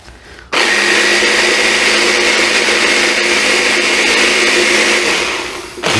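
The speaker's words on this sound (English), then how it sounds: "since we got our nice handy dandy little blender thing there, this gives it a nice emulsion." A small handheld blender runs steadily for several seconds, emulsifying German potato salad dressing: a loud, close, continuous motor whir that starts abruptly and tapers off at the end.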